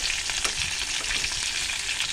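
Chicken pieces frying in a pan of hot oil give a loud, steady, crackling sizzle with faint stirring scrapes underneath and no talking.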